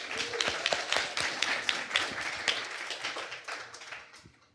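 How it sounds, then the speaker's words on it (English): A small tech meetup audience claps for the venue host, with sparse, distinct, fairly close handclaps that pick up briefly and then taper off over a few seconds. "We'll give a round of applause for Atlassian."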